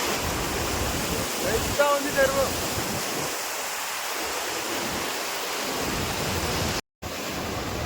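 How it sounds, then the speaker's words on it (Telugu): Water rushes steadily out of a large village lake, a broad, continuous roar of flowing water close by with a brief dropout near the end. "నీళ్ళు ఎట్లా పోతున్నాయి చూడు"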